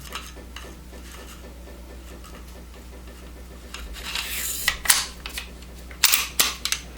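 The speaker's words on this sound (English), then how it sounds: "Putting it back together is just as simple. Okay, slide this back on." A Sig Sauer P220 pistol slide is slid back onto the frame during reassembly, giving close, quiet scraping and rubbing, then a few sharp metallic clicks and clacks toward the end.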